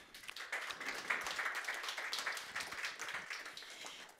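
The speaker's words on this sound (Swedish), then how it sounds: "Tack för det, en applåd." An audience applauds at a small-cap company conference in Stockholm, a dense, steady patter of many hands clapping at moderate loudness for several seconds with no talk over it.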